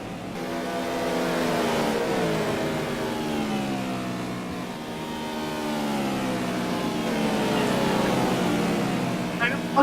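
GT2 race cars, a BMW and a Corvette, race at Silverstone in the Simraceway game, their engines holding a loud steady high rev that rises and falls through gear changes, close and continuous.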